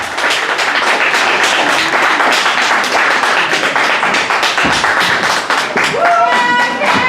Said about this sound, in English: Next poet up, please give a huge round of applause to Kay.